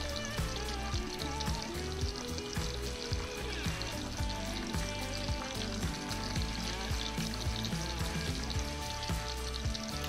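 Tater tots frying on a Halo Elite griddle about 400 degrees, giving a steady, dense sizzle with pour-like hiss throughout, close and loud, with no talking.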